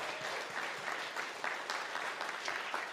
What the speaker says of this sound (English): big applause to Veronika for managing and getting us through this day